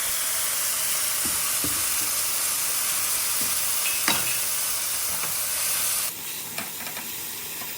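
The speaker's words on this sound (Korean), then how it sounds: "살짝 데쳐놨던 모든 해물과 맛술 한 큰술을 넣고 살짝 더 볶을게요" Blanched seafood stir-fries in a pan after a spoonful of cooking wine goes in, a loud, continuous close hiss of sizzling with scattered scraping clanks and a slight drop near the end.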